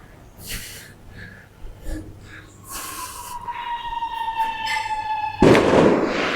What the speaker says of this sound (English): Hey, more fireworks.